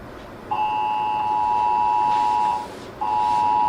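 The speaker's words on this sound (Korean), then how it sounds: "8번 실험실 긴급 경보입니다." A laboratory emergency alarm in a drama sounds a steady, loud electronic tone: one long beep of about two seconds, a short gap, then a second beep begins.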